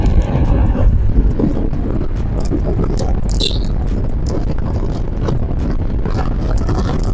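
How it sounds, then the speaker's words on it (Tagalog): Loud, constant rumbling wind buffeting a wireless microphone throughout while riding a Honda ADV 160 scooter, a dense roar of noise of moving at speed outdoors. "Yan hangin."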